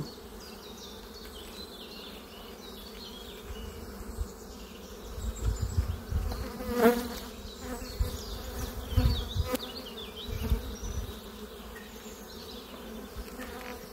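Steady droning buzz of many honeybees close by at an open hive, a dense continuous hum with louder swells as bees move near.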